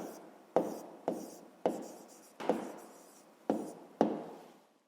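Handwriting with a pen on paper for a fifth-grade decimal place-value exercise: six distinct close, scratchy strokes spaced roughly half a second apart, each fading quickly, with nothing else heard.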